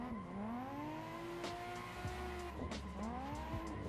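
A race car in Assetto Corsa spins out during a drift tandem, tires squealing and wailing in long sweeping pitches over revving engine noise, with faint cheering behind.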